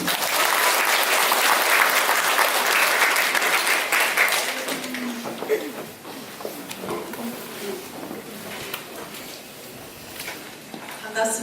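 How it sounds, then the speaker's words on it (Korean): Church congregation gives a loud round of applause to welcome a missionary, strong clapping for about four seconds that fades into scattered claps, footsteps and murmuring voices as the room settles. "우리 큰 박수로 우리 환영드리겠습니다."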